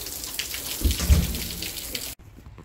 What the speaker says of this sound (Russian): Вот и дождь закончился.